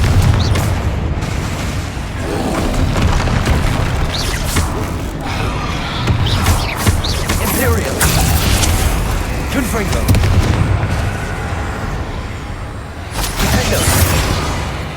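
Explosive spell blasts such as Confringo and Bombarda in the Hogwarts Legacy video game, a dense run of booming bursts and crackling impacts layered over continuous game music and ambience, loud throughout with several sharp peaks.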